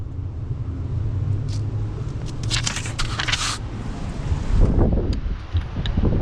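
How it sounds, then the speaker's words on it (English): Strong gusting wind buffets an outdoor microphone beside a 1988–1998 Ford OBS truck, a constant low rumble with crackling bursts and a louder surge toward the end, no speech. "Again, it's very windy, I'm sorry."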